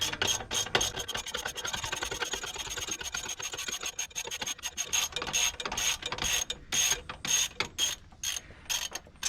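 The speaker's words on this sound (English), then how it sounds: "I like this ratchet" A ratchet fitted with a 17mm socket works loose the brake caliper on a 2006 Honda Accord, giving rapid close-up bursts of metallic clicking separated by short pauses, with no talking.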